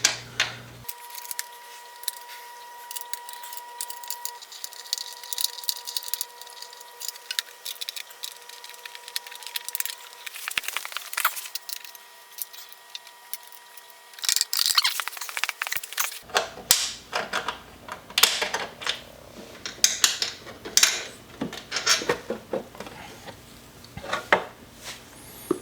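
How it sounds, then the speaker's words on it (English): Screws being backed out of the fork of a Celestron CPC 1100 telescope, giving scattered small metallic clicks, scrapes and handling knocks close by, with no talking. "you do need to remove these screws to enable you to open this up"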